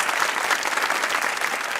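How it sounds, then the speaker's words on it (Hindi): Studio audience on a Pakistani comedy talk show breaks into steady, dense applause, many hands clapping together at an even level from start to finish with no voices over it. "अब थोड़ी सी तालियां हो जाइए।"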